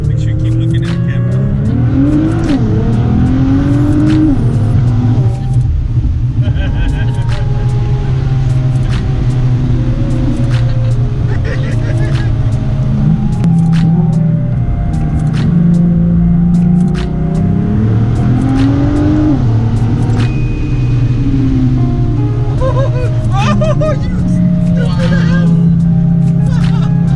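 A Nissan GT-R, the car nicknamed Godzilla, driven on the road with its engine rising and falling through several revs over a constant cabin rumble, heard from inside, with people talking over it throughout.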